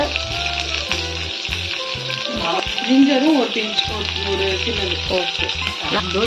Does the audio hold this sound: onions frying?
yes